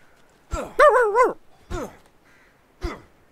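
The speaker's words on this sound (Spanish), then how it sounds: "se os ha escapado el perro, ¿eh?" A dog in the Deceit video game barks several times close up, a quick yip, a longer wavering bark, then two separate sharp barks spaced apart, loud against a quiet background with no talk.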